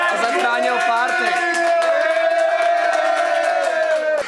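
Concert crowd cheering, whooping and applauding for a drummer, loud and sustained, with voices shouting over one another in a dense, continuous roar.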